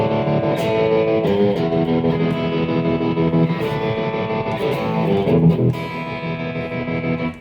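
Distorted electric guitar through a BOSS ME-80 multi-effects unit, playing steady notes with a wavering tremolo and vibrato effect, loud and continuous throughout.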